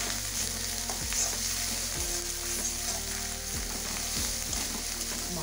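Chili and cumin paste masala with a little ground coriander frying in a pan for Bengali kathla fish curry, a steady close sizzle with repeated stirring scrapes at a loose rhythm, no voices.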